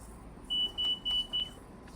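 A train warning alarm in Train Sim Classic on a rainy Long Island Rail Road run gives four short, sharp electronic beeps in a steady rhythm over a low, constant cab rumble.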